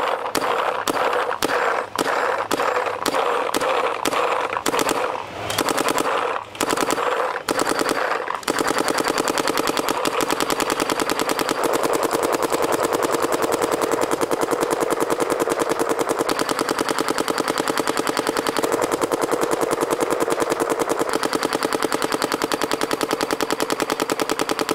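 A Tippmann TM40 paintball marker fires outdoors, close and loud: a run of separate spaced shots, then a long, rapid continuous burst of firing.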